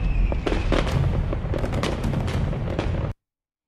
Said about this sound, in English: I think I deserve some fireworks.